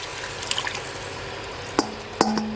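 Hot water from a kettle pours into a cooking pot for Jamaican curry cow foot, a steady hissing stream punctuated by a few sharp drips and splashes near the end.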